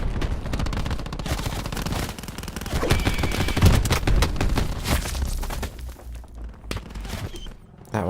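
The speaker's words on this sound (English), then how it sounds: "this person's got a grenade launcher" In Call of Duty Black Ops 4 Heist mode, dense gunfire crackles almost without pause, with heavier thumps mixed in from a grenade launcher and scattered explosions, loud and busy throughout.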